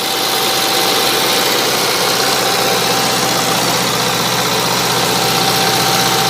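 An Onan propane generator engine drones steadily up close, a dense mechanical rumble with a fast, faint clickety-clackety ticking rattle running through it.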